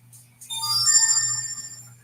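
A telephone rings with a steady electronic tone over a low background hum, starting softly and swelling after the first half second, fairly close and without talk.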